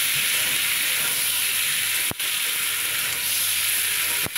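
Green chillies sizzle in hot oil in a pan for a rohu and pointed gourd curry, a loud, continuous frying hiss broken by two sharp clicks.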